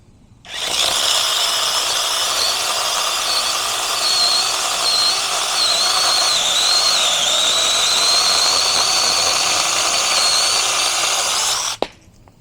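A TROOZY mini 6-inch battery-powered chainsaw cuts through a larger section of wood with a steady, high, whirring buzz lasting about eleven seconds. It is loud and close with no talk, then stops abruptly with a short clack.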